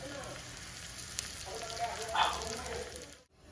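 Dried red chillies and curry leaves tempered in hot oil for Kerala-style kozha curry: a steady close sizzle and crackle with a brief louder spit near the end, then sudden quiet.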